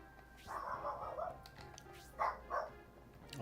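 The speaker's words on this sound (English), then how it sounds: "Of course, a dog would be barking" A dog barking in the video game Shining the Holy Ark: a muffled run of barks followed by two sharper separate barks, mid-distance with light background sound.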